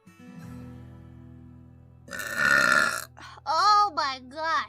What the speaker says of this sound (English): Ow, that was a burp.